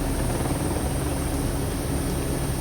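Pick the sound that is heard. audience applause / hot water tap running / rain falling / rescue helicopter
rescue helicopter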